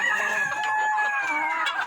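A hen clucks and calls in a rapid string of loud, near, pitched notes, alone without speech.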